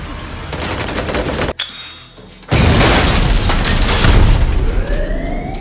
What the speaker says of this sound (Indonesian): Sayangnya di insiden ini Junior berhasil tertembak oleh mereka